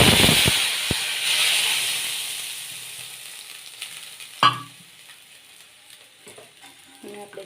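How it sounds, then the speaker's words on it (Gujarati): Mustard and cumin seeds hit hot oil with chillies and garlic, a loud hiss and crackle that slowly fades, with a sharp pop midway and faint clinks of a spoon afterward. "આપણે જો વઘાર કરી નાખ્યો છે"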